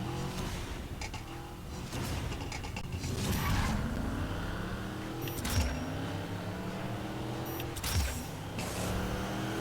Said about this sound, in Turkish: Erkenden nos basıyor işte.